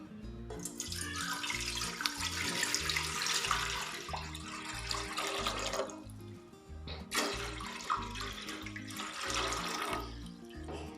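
Running water pours steadily into a cooking pot, about 1.5 kilos of water to boil rice in a home kitchen, a continuous splashing rush with a brief dip partway through and a low hum underneath.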